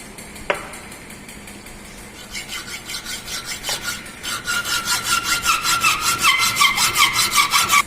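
Hand saw cutting wood for a single dovetail joint, a sharp tap at the start, then rhythmic back-and-forth rasping strokes that grow louder and quicker, close and alone.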